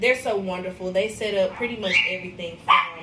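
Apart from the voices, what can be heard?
dogs barking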